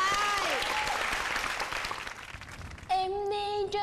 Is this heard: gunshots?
no